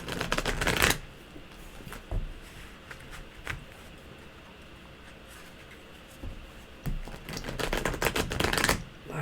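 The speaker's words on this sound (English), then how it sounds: "I want to make sure I shuffle them well" A glossy, slightly thick cardstock tarot deck is shuffled nearby in quick riffling bursts at the start and end, with softer scattered card taps between.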